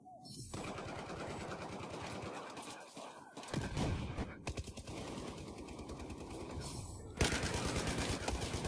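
Rapid automatic gunfire in Battlefield 4 multiplayer, dense sustained bursts with brief gaps and a sharp louder volley near the end, continuous and fairly loud throughout.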